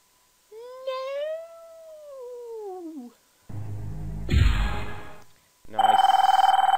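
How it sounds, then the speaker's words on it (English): A telephone rings repeatedly in an online game show style video game, its electronic trill loud in short bursts between gaps and other game sounds. "what's with all the phone calls?"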